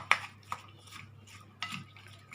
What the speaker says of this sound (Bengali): এবার এটাকে আমি মিক্স করব মেশাবো